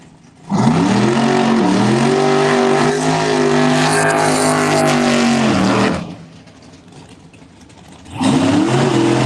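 A Chevrolet Cavalier race car screams past on a Union County track, its engine loud and close as it rises, holds a high roar, then drops away before another surge of revving returns.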